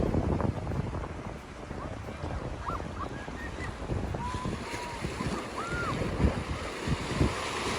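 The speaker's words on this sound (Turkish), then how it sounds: "Burada da bekleyelim dalganın buranın üstüne çıkmasını bekleyelim." Ocean surf rolling up onto a beach on the Portuguese coast, a steady broadband wash with gusty wind buffeting the microphone, and a faint high whistle-like tone drifting through.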